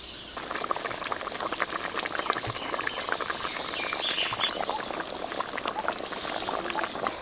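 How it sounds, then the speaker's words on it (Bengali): A large boal fish curry simmers in a pot after water is added, a continuous close bubbling and gurgling that stays steady throughout with no talk. "এবার আমি দশ বারো মিনিট ভালো করে ফুটিয়ে নিচ্ছি"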